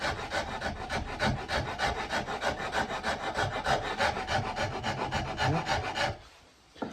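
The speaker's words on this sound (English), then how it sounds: "So I just usually put the rasp across like this. Just cut down." A wood rasp scrapes across a wooden instrument neck being carved down, producing rapid, regular back-and-forth rasping strokes, close and continuous, ending with a brief pause.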